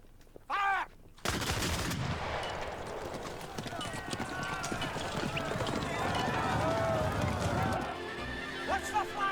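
Musket volley from a Sharpe battle scene: a sharp burst of gunfire erupts after a shouted command, followed by a sustained loud din of battle with horses' hooves, shouting and clatter.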